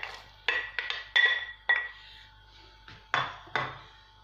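Peas being added to a tagine pot while cooking a chicken, pea and artichoke tagine, heard as a series of close, sharp clinks and clatters of utensils against the pot at irregular intervals, with no talk.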